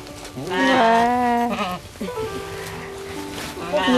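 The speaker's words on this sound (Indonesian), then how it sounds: "Ini dia nih kambing-kambingnya." Goats in a farmyard pen let out several loud, wavering bleats close by, one after another, while people talk nearby.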